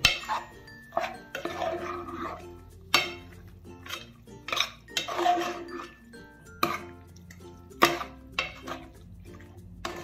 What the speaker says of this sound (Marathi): आता हे ढवळलंय मी.